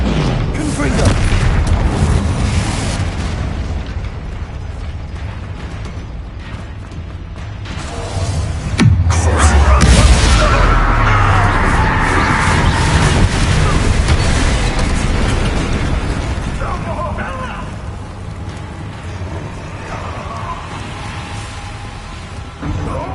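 Confringo spell blasts in Hogwarts Legacy boom loudly and repeatedly, with one heavy explosion rolling out over continuous rumbling battle noise and a voice speaking.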